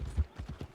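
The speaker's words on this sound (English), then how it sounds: "My horse." Horse hooves clip-clop in a video game, a few soft, fairly even steps close by with a low thudding tone, no voices over them.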